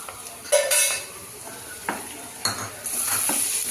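Tomato paste frying with browned onions in a pan, stirred with a utensil: a low sizzle broken by several sharp scrapes and clinks against the pan, close and with no talk.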